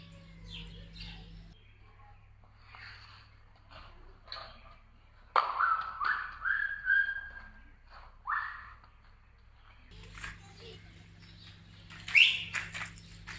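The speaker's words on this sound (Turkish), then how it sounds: "Kuşları çekmeye çalış." Birds chirping outdoors, scattered close calls and a rising tweet over a low background hum, with quieter stretches between bursts.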